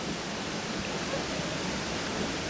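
Creek water running against a log at the edge of marshy wetland foliage, a steady broadband rush that stays close and even throughout with no talk.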